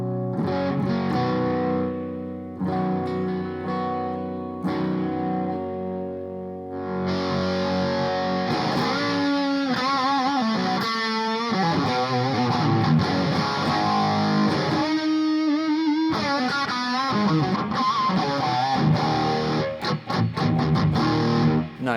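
An electric guitar runs through a Joyo Bantamp amp set to a hot gain with the guitar volume rolled back. It plays sustained chords, then rhythmic strummed and picked passages with a mildly distorted, effects-tinged tone.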